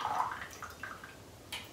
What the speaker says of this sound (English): So I'm just gonna pour that right in my cup.